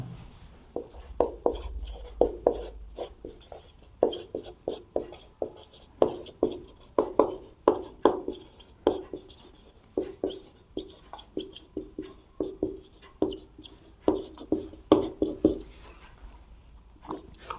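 A hand writes out a class 12 maths solution, producing a long series of quick scratchy strokes in an uneven but steady rhythm, close and fairly quiet.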